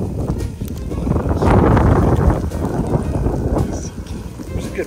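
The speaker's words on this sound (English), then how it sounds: "There's a good wind out here too." Steady outdoor wind roars and gusts across a snowy winter campsite beside a Winnebago Ekko RV, swelling loudest midway through, with faint voices mixed into the rushing noise.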